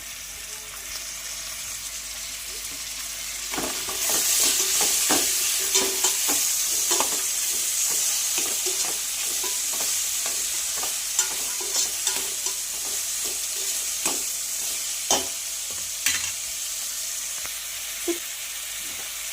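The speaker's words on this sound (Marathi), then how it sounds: "त्याआधी आपण हे थोडंसं फ्राय करून घेऊया" Onion, coriander and green chilies frying for a mixed-lentil khichdi: a quiet start, then a loud sizzle rising and holding steady, broken by repeated close clacks and scrapes of a spoon stirring the pan.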